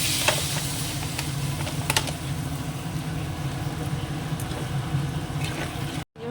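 Chicken curry in a pan sizzles steadily and fairly loudly after water is added, with a constant bubbling hiss, a few brief clinks near the start, and an abrupt cutoff near the end.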